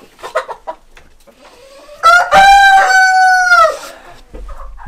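Laying hens cluck loudly and close at roll-away nesting boxes, with a few soft clucks first and then a long, drawn-out squawking call that dominates the middle of the clip.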